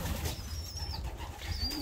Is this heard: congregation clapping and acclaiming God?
no